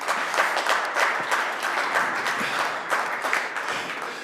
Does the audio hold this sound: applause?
yes